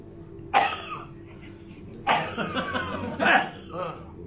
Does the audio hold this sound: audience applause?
no